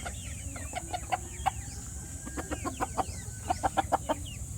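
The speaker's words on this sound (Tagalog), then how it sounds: "makukulit yung mga manok." Chickens on a small farm cluck in short, sharp bursts, several close calls clustered together over a low background hum.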